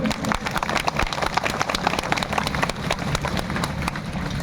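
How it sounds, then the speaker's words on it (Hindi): A crowd claps loudly and steadily at a school inauguration ceremony in Viratnagar, dense overlapping claps filling the whole stretch without pause. "जोरदार तालियां बजाओ, कोटपुतली तक सुने"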